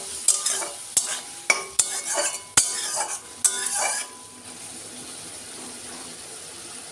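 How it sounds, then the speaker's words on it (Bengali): Curry with cauliflower, potato and peas cooking with katla fish, stirred in a pan: a run of sharp metal spoon scrapes and clacks over a steady sizzle, ending after about four seconds into low frying hiss alone. "দিয়ে ভালো করে নেড়ে চেড়ে দেবো।"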